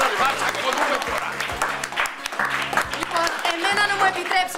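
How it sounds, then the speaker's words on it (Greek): A studio audience at a Greek television comedy episode claps steadily and fairly loudly, with people speaking over the applause throughout. "Παρακαλώ, ένα χειροκρότημα στον κύριο Ρίκο Μαπουριάδη."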